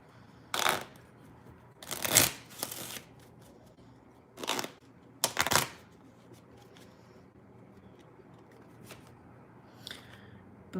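Tarot cards are shuffled in several quick riffling bursts, some short and some longer, with quiet gaps between them in a hushed room.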